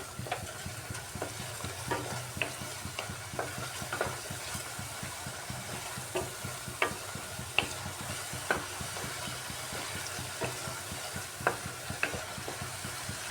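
Onion and ginger fry in a pan, giving a steady low sizzle broken by regular scraping stirs that come every second or so, close by with no voices.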